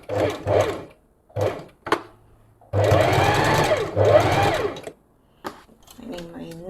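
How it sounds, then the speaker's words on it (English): A sewing machine runs a straight stitch along a dance costume in a couple of close, loud bursts of steady whirring, set between stretches of a person talking. "from here, I'm just going to do straight stitch all the way"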